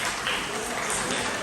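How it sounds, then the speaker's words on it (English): An audience at a comedy show applauds with a dense, steady wash of clapping that fills the whole moment, loud and continuous. "Can you give me a round of applause because I'm in a new band?"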